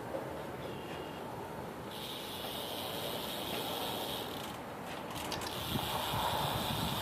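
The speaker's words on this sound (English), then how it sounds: "Hub sound for the Division Tactical." Rear freewheel hub of a custom Kink BMX bike, a Division Tactical hub, gives a steady, fairly quiet ratcheting click that runs continuously for several seconds, with no talking over it.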